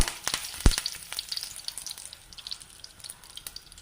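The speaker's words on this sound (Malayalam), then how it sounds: "അപ്പം നമ്മുടെ കടുകെല്ലാം പൊട്ടിക്കഴിഞ്ഞു ഇതാ ഒരു കറിവേപ്പില ഇട്ട് കൊടുക്കാം" Curry leaves dropped into hot oil with popped mustard seeds crackle and sizzle close up, with a sharp burst of spitting at first settling into a steady busy fizz, no talking.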